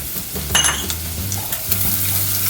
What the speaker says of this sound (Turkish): Birazcık da bu şekilde kavuruyorum.